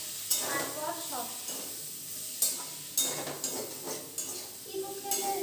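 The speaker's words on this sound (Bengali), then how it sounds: "এই দেখো আমার আলু আর মশলা কষছে" Potatoes and spices sauté in a pan, sizzling under repeated sharp scrapes and clinks of a spoon stirring against the metal, about five distinct strokes, with faint background voices.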